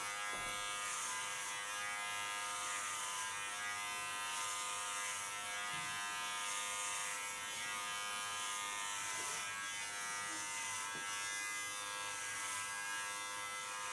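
Electric hair clipper buzzing steadily and close for the whole stretch while cutting hair ultra short, with a comb held in front of the blade; a constant harmonic hum with faint irregular changes as it moves through the hair.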